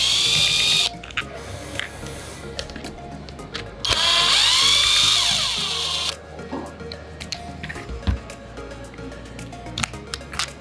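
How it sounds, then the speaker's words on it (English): A power screwdriver removes screws from a Rob Allen Timberline Series fishing reel handle, giving two loud, close, high-pitched whining runs of about a second and two seconds, followed by scattered clicks and handling taps. "First off, by removing the screws from the handle."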